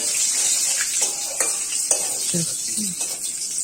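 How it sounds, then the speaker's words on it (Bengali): Bay leaves and cumin being stirred in hot oil in a cooking pan for a mutton curry: a steady high sizzle runs throughout, broken by scraping and clinking strokes of the spoon, while a voice talks over it. "যে তেজপাতা দিয়ে এখন নাড়াচাড়া হচ্ছে, তেজপাতা জিরা"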